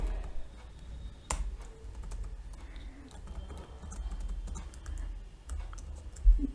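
Typing on a computer keyboard during Google Earth Engine work, with a steady patter of quiet keystrokes, a sharper click near the start and another at the end, all faint over low background hum.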